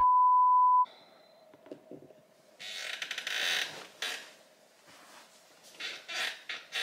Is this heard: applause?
no